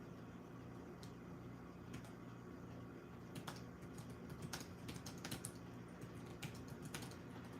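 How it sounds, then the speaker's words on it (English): Typing on a computer keyboard, with sparse keystrokes at first and then quicker irregular bursts of clicks, close but soft over a low background hum, with no talking. "Just type in my response as well, just so people know."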